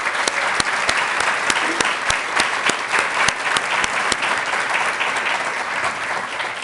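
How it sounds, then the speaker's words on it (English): Audience applause at a State Department Pride Month event, a dense, continuous round of clapping from a sizable crowd, loud and steady with individual sharp claps standing out. "And I want to give them a hand of applause."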